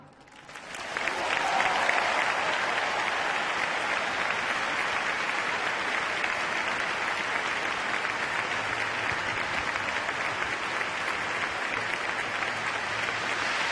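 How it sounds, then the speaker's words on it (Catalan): Large concert audience bursts into sustained applause after Montserrat Carulla recites a Josep Maria de Sagarra poem, the clapping swelling within a second and holding as a dense, even roar of hands. "ha posat molta gent dempeus aplaudint aquest poema de Josep Maria de Sagarra"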